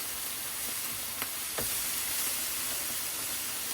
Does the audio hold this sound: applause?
no